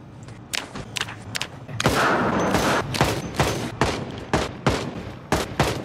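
Gunfire at zombies in a video game, with rapid bursts of sharp shots and heavy thuds, close and loud, arriving in irregular volleys and a sustained rattling stretch.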